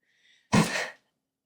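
A single short, sharp sneeze bursts out after a faint breath, close to the microphone in a quiet room.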